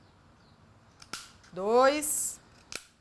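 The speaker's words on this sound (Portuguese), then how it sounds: "Você precisa daquela tesoura que eu falei de desbaste e de 4 cortezinhos" Thinning scissors snap sharply through a cardboard toilet paper roll in a few close, crisp cuts, with a spoken voice counting between them.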